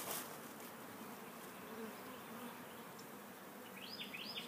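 A faint, steady buzzing of many honey bees at an open hive fills the background, with a few bird chirps appearing near the end.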